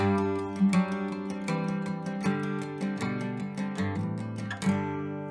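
A guitar in DADGAD tuning strums a D modal chord, then steps down through a descending bass line walk down with repeated picked strums, clear and close, ending on a final ringing strum.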